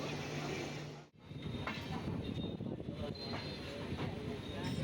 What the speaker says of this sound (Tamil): திருவாரூர்லேருந்து இந்த ட்ரெயின் இப்போ கிளம்புது